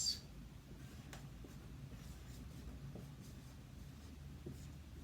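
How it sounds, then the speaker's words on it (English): A word is handwritten on a surface, making faint, soft scratching strokes close by over a quiet, low background hum. "I'm going to write a word here."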